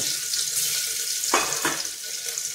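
Crushed garlic, about seven or eight cloves, drops into hot oil and sets off a steady hissing sizzle with a couple of sharper crackles.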